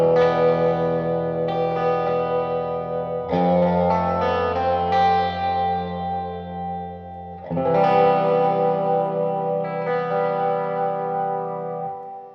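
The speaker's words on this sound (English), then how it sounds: "let's go for a fairly extreme reverb sound" An electric guitar played through a Todd Sharp JOAT 20 amplifier with extreme reverb and the bright switch on rings out in sustained chords that swell and wash into long, spacious tails, loud and alone.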